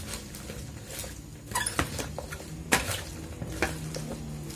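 A salad being tossed in a bowl, with scattered scraping and clinking of utensils against the dish and soft rustling in between, close and fairly quiet.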